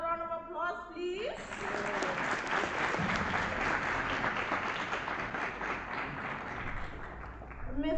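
An award ceremony audience breaks into sustained applause after a voice briefly speaks, the dense clapping filling the hall at steady volume for several seconds before tapering slightly.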